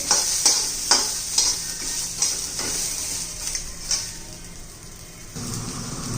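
Green chillies and garlic roasting in a pan, a steady sizzle broken by rhythmic spatula scrapes and stirs, close and fairly loud, easing off toward the end.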